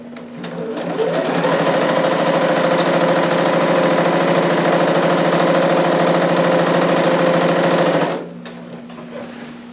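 A sewing machine stitches a jumpsuit with a fast, steady mechanical whir that runs for about eight seconds before it stops, followed by a quiet pause.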